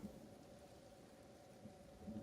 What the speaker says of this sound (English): But this is just acid rain